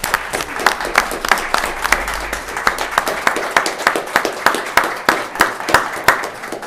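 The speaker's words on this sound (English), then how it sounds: "Please give a round of applause for Mr. Preston Thurman for being married." Applause at a county board of commissioners meeting, a smaller room of people clapping in a loose uneven rhythm, fairly close and loud, with individual claps standing out.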